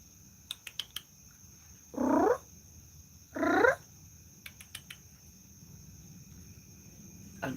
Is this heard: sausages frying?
no